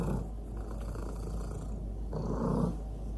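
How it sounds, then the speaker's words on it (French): Minette the cat purrs close up, a low continuous rumbling drone with gentle rhythmic swells of breath, soft but steady, swelling slightly louder near the end. "Vous allez l'entendre ronronner."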